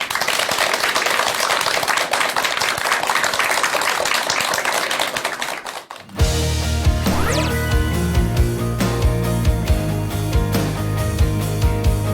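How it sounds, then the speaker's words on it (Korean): An audience at a talk on stress and mindfulness claps loudly for about six seconds, then the clapping cuts off and music begins. "여러분 큰 박수 부탁드립니다"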